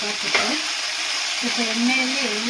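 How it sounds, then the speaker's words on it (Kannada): Masala seasoned with salt is stirred and fried in a pan for sprouted horse gram sambar, giving a steady close sizzle broken by scraping stirs. "ಸ್ವಲ್ಪ ಉಪ್ಪು ಹಾಕ್ತಾಯಿದ್ದೀನಿ ಮಿಕ್ಸ್ ಮಾಡ್ತಾಯಿದ್ದೀನಿ"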